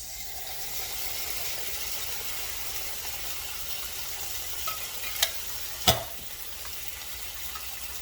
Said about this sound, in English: We're going to let this cook for a couple minutes before we add the stock in here